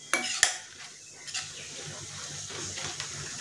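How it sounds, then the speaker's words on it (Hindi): Paneer bhurji ingredients stirred together in a pan, with a couple of sharp spoon clinks against metal and then soft scraping and stirring under a low sizzle. "सारी चीज़ों को अच्छे से मिक्स कर लेंगे"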